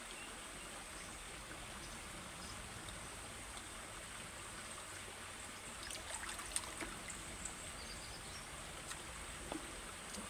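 Steady flowing water from a riverside waterfall, a soft wide rushing wash heard from some distance, faint and continuous, with a few small splashes and no talk.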